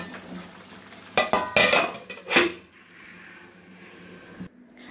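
Beef for biryani is set cooking in a pot: a few metallic clanks and scrapes of a spoon against the pot, then a quieter steady sizzle.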